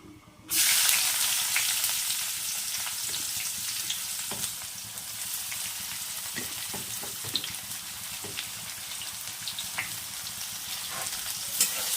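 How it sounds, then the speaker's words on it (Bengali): Chopped onions fry in hot oil in a pan for a fish-head muri ghonto, a steady close sizzle broken by scattered clicks and scrapes of stirring, with no talk. "পেঁয়াজটা একটু ভাজা হোক, তারপরে মশলাটা দেবো।"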